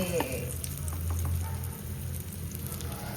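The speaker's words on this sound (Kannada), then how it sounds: "ಇದು ಡೀಪ್ ಫ್ರೈ ಅಗೇನ್ ಅಲ್ಲ, ಇದು ಶಾಲೋ ಫ್ರೈ." Soya cutlets shallow-fry in a little oil in a pan, making a steady, moderately loud sizzle with soft crackles that continues throughout, close by.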